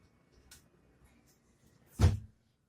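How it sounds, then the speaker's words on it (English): A slide-out cutting board pulled from a kitchen cabinet, a single short wooden scrape and thunk close by after quiet light handling noises. "at the bottom you can see you can take out the cutting board for cleaning."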